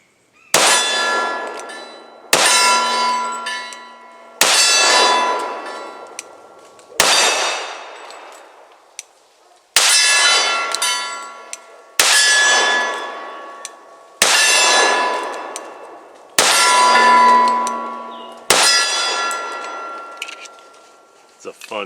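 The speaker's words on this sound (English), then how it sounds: "Just shooting at a steel silhouette target." Shots from a Sig Emperor Scorpion pistol strike a steel silhouette target at 20 yards, a series of about nine loud, ringing metallic clangs spaced roughly two seconds apart, each decaying before the next.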